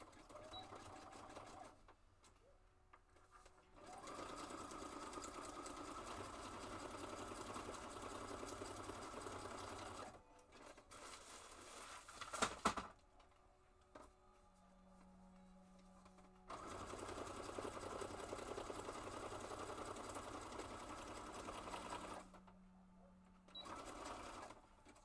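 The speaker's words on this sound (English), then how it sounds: "I'm going to use a zigzag stitch." A sewing machine stitching a zigzag seam runs in several long, steady whirring stretches separated by short pauses, close and moderately loud.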